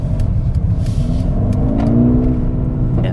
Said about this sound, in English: But the exhaust sounds pretty good